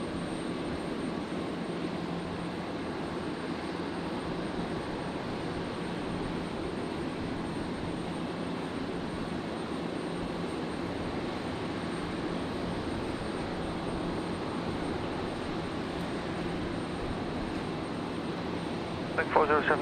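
A Qantas airliner arriving from Melbourne lands on runway 01 right at Brisbane Airport at night, its engines a steady, continuous broadband roar from start to finish, with a few louder bumps at the very end.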